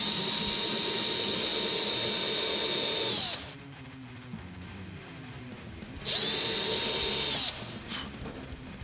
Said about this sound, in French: l'embout de mon forêt va venir se planter pile poil dans le pré-trou que j'ai fait avec ce superbe outil